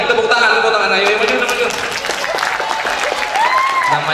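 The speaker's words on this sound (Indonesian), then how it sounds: "Tepuk tangan" Children in a Ramadan class clap together in steady, loud applause that lasts the whole stretch, with voices and excited children's calls mixed in over the clapping.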